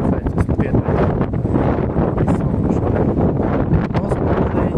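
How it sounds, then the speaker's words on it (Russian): Gusty wind buffets the microphone outdoors at the Golden Abode of Buddha Shakyamuni temple in Elista on an overcast day, a steady, loud rumbling roar that fills the whole stretch. "Ветрено."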